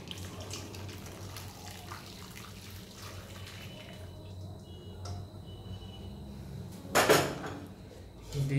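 Water poured into a cooking dish in a home kitchen, a short splashing burst near the end following quiet clinks and handling noises, with soft background murmur.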